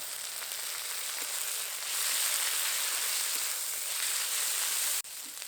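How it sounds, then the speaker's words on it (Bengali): Ginger-garlic paste frying with chopped onions in hot oil while preparing chickpea dal with mutton leg bones, giving a steady, close broadband sizzle that swells slightly midway and breaks briefly near the end, with no voices. "এবার এর মধ্যে দিয়ে দেবো আদা রসুন বাটা।"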